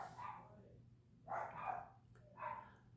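Dogs bark in the distance in three short bursts over a low steady hum, fairly faint and with no talk.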